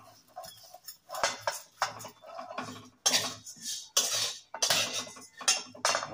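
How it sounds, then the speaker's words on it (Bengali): Dry seeds and grains are roasted together and stirred in a pan to make a fishing bait spice mix for rohu and catla; irregular bursts of close scraping and rattling come in uneven strokes with short pauses. "এগুলো দানা সব একসাথে ভাজা হয়ে যাবে।"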